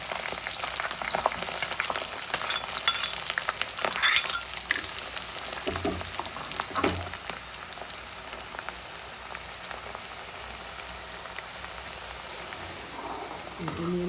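Ginger frying in oil for a fish pickle, a close, hissing sizzle broken by scrapes and clinks of stirring. A few louder crackles come early, then the hiss settles into a quieter, steady layer.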